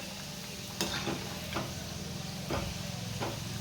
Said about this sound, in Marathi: मिडियम गॅसवरती आपल्याला हे तळून घ्यायचं आहे